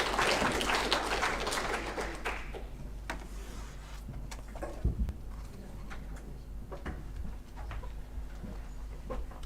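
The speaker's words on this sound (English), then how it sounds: "Let's give her a round of applause" Conference audience applauding after a presentation, a broad wash of clapping at first that thins out into scattered claps and faint room noises.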